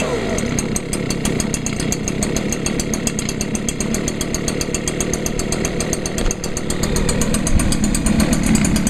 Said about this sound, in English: Alright, and there's the Stihl running.